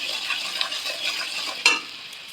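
Spice paste for a prawn curry frying and being stirred in a pan, a steady close sizzle with soft scraping strokes and a sharper clatter near the end.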